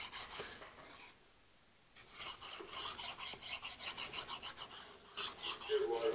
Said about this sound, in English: I'm gonna go over it with a finer file.